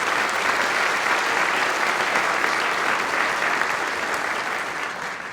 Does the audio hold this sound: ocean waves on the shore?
no